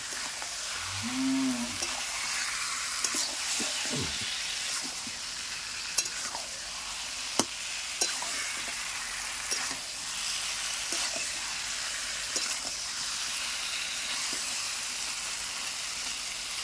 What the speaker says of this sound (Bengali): তো দেখো সব মশলা ভালো করে মাখিয়ে নিচ্ছি চিকেনের সাথে।